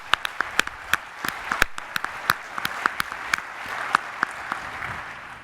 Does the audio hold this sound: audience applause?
yes